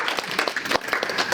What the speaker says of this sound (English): Let's give them a clap for everything that they've done.